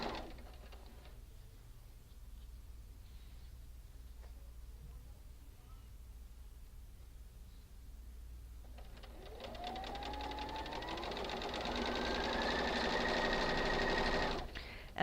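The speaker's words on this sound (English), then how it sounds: "So I will randomly put these back through the machine." A sewing machine chain piecing quilt blocks, quiet at first under faint background, then running in a loud, steady close-up whir for the last several seconds.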